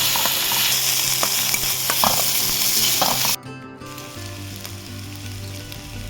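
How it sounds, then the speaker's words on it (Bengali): Ginger, green chilli and garlic frying together in hot oil, a loud continuous sizzle with stirring scrapes, the crackle dropping suddenly partway through to a quieter, lower simmer, close up, no talking. "এবার আমি আদা, কাঁচা লঙ্কা, রসুন এগুলো সব একসাথে দিয়ে দেবো। ভালো করে ভেজে নেবো"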